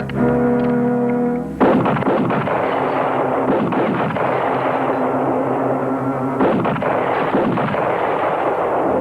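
A volley of rifle gunshots aimed at bottles in a frontier shooting contest goes off together as one loud, close blast and then rumbles on, with a second heavy report breaking in later.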